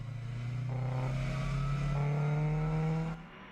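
Onboard a Lamera race car, number 2, lapping the Red Bull Ring during a Lamera Cup endurance race: a loud, steady engine drone with rising pitch as it accelerates, then a sudden drop as the revs fall near the end.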